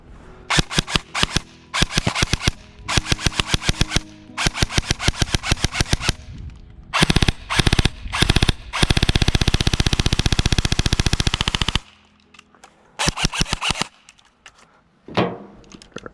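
Rapid bursts of an EMG Helios Angstadt Arms SCW-9 electric airsoft gun firing, close and loud, in short volleys and one long sustained stream, with brief pauses between.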